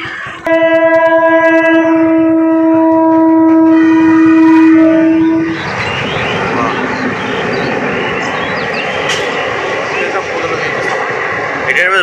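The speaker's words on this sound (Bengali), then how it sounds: "এবার ট্রেন ঢুকছে, দেখো ট্রেন যা পেরিয়ে যাওয়ার পর তারপর আমরা যেতে পারবো।" A train rolls past a railway level crossing, opening with a loud sustained multi-tone horn blast and giving way to heavy, close rumbling and clattering of the passing carriages, steady to the end.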